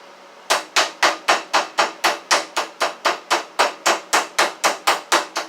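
A meat mallet pounds chicken breast flat in a kitchen, about twenty evenly spaced sharp thuds in a steady rhythm, close and loud with no talking.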